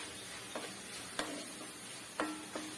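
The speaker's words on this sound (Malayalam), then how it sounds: "തീ ഇച്ചിരി പയ്യെ ഇട്ട് കുറച്ചിട്ട് നമുക്കത് വറുത്ത് കോരാം" Sliced bitter gourd frying in a pan for Kerala pavakka pachadi, with a soft continuous sizzle and a few sharp scrapes and taps of a spoon stirring against the pan.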